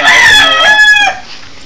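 A single rooster crows once, close and loud, a brief rising-then-falling call that cuts off after about a second.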